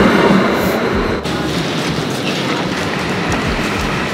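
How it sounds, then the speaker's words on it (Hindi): A passenger train pulls into a station in India, a loud steady rumble with rhythmic clickety-clack of wheels over rail joints, heard close and continuous without talk. "और जी इसके साथ हमारी ट्रेन की आमद हो चुकी है"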